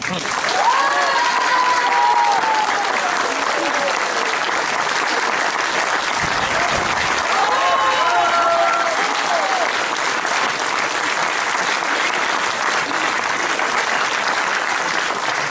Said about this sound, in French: J'aimerais que vous les applaudissiez extrêmement fort.